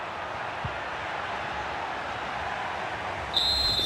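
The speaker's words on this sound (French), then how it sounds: "L'arbitre siffle donc la fin de ce match." A referee's whistle in the FC 25 video game sounds one sustained shrill blast near the end of a Cordoba vs Albacete LaLiga match, rising over a steady roar of stadium crowd noise.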